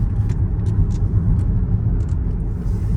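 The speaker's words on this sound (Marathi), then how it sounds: "एवढा आवाज काय येतोय गाडीचा" Road traffic heard from indoors through a window, a continuous low rumble of passing cars with faint higher hiss bursts, steady and moderately loud, no talking.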